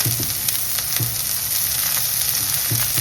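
Crab curry with curry leaves frying in a pan, a steady dense sizzle with a few soft stirring clicks, close and continuous with no talking.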